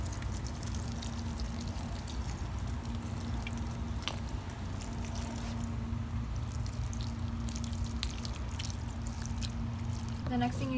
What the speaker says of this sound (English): the next thing you need to do is to adequately water all of your plants before you leave